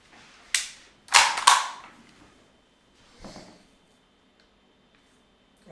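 A KWA Kriss Vector airsoft gun dry-fires with no BBs loaded, giving a few sharp mechanical clacks, including a quick burst of two or three, then a fainter single click, close and alone.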